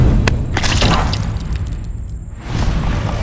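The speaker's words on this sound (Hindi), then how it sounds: "नीरज बंदूक उठाकर पायल की तरफ तान देता है और गोली चला देता है" In an animated Hindi story, a gun fires with a sharp, loud crack and boom, followed by a brief crackling tail and a soft whoosh, with no talking.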